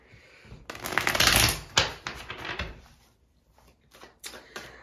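A double deck of Rider Waite tarot cards being shuffled up close, a quick riffling burst followed by softer intermittent card slaps and rustles, quiet overall.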